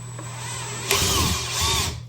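A power drill runs in reverse on a thick screw while a desk is being built, a steady close whir with a sharper surge partway through.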